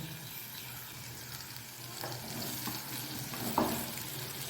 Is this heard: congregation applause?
no